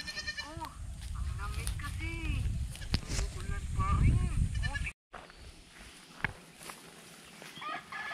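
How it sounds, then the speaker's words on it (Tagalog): Goats bleating in a farm field, their repeated wavering calls close and fairly loud over the first five seconds, with someone talking among them and quieter outdoor sounds afterward. "Dito yung mga kambing natin, mga kaswelo."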